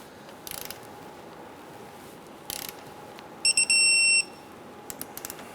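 A torque wrench clicks and ratchets while tightening the lower rear shock bolt on a 1997-2006 Jeep Wrangler, short bursts of clicking followed by a sustained, loud tonal beep from the wrench near the end, over a quiet workshop background.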